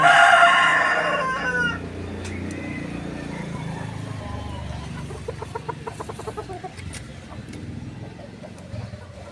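A rooster crows loudly close by at the start, then hens cluck repeatedly at lower level in a backyard setting, with light background noise and no talk.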